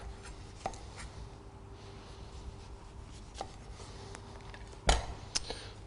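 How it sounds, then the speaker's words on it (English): A sharp knife peeling the skin off a celeriac, quiet scraping and rubbing strokes with a few soft cuts and one sharper knock against the board, close and faint with no talking. "we're just going to peel around the skin of the celeriac, almost as if you were doing a turnip or a melon"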